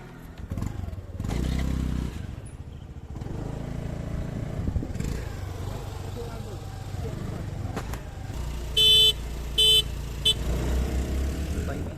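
Honda Activa 6G and 4G scooters race side by side through light traffic, engines droning steadily at close range with rising throttle, brief horn toots near the end and a voice speaking over the noise.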